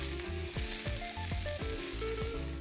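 Beef searing on a Blackstone griddle, a steady loud sizzle and fry that runs throughout, with brief scraping and stirring sounds from tools now and then and no talking.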